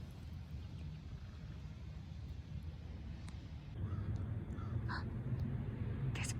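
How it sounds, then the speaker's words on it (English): Outdoors, a bird calls with a few short caw-like notes, faint and somewhat distant, over a constant rumble of wind or traffic noise. "There's a bird."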